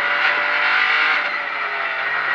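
A Peugeot 208 Rally4 rally car engine roars hard and loud on a rally stage, holding a high, strained pitch as it accelerates, close by and continuous.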